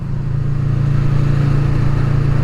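A 2020 Kawasaki Vulcan S motorcycle engine hums steadily at low revs while riding, a loud, even drone that runs alone without a break.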